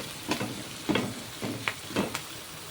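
Onions frying in a pan for raw mango fish curry, a soft steady sizzle broken by four or five rhythmic scraping stirs, close and without talk.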